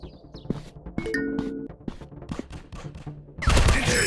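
Gunfire in a 3D first-person shooter game, with a quick run of sharp shots, a few metallic pings and ringing tones, then a dense loud burst of firing near the end.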